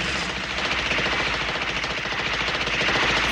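Sustained automatic gunfire in a Bud Spencer and Terence Hill film, a dense, continuous loud rattle of rapid shots that carries through the whole stretch with no pauses.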